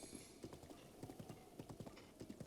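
Rapid, rhythmic hoofbeats of a galloping horse in The Legend of Zelda: Breath of the Wild, in the rain, steady and close, with no voices over them.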